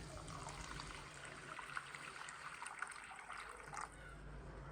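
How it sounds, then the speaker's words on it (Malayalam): Water poured into a pan for Yippee instant noodles, a steady, faint trickle that runs close by for several seconds and eases off near the end. "ആവശ്യത്തിനുള്ള വെള്ളം ഒഴിച്ച് കൊടുക്കാം"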